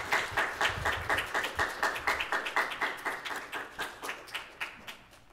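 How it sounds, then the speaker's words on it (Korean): Church congregation clapping in a steady, rhythmic unison beat after a testimony during a Korean Psalms sermon service, the claps moderately loud and evenly spaced, fading slightly toward the end. "우리 박수하십시오."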